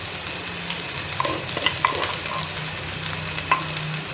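Chopped onions fry with crushed ginger and garlic for a fish curry, giving a steady close sizzle with occasional spoon scrapes and stirring taps against the pan.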